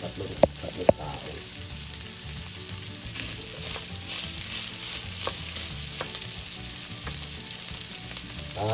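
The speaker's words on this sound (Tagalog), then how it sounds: "Ito ay isang simpleng sinangag. Lalagyan ko na yung kanin." Rice frying in a pan over low heat for simple Filipino sinangag, a steady close sizzle with soft stirring scrapes and a couple of sharp clinks near the start.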